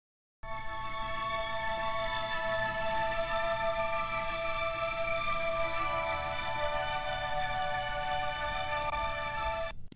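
An airy synthetic pad holds a soft, steady chord for about nine seconds after a brief silence, smooth and even throughout with no talking over it.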